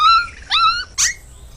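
A dog whimpers in three short, high, wavering whines, close and fairly loud, with brief pauses between them and no voices.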